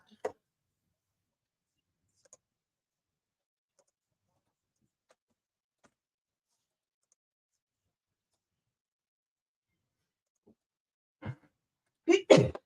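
A single sharp sneeze bursts out near the end in a live broadcast studio after a long, nearly silent stretch, with a few faint brief sounds before it.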